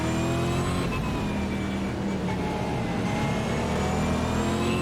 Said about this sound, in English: Have to remember to blip on the downshift.